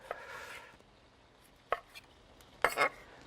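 A kitchen knife cutting fish into small pieces on a board during a cooking demonstration: a soft scraping stroke, then a few sharp separate chops spaced apart, close and fairly quiet, with no speech.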